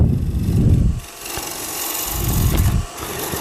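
A Hunter Hercules carbide tool scrapes a spinning wooden blank on a wood lathe to cut a square shoulder, giving a steady close rasp over a rumbling low hum that swells and fades.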